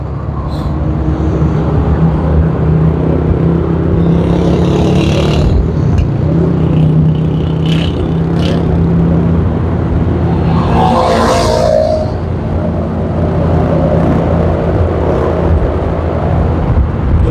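Steady street traffic with passing cars and motorcycles near a boulevard, a continuous low engine rumble with occasional louder whooshes and higher engine whines from vehicles going by.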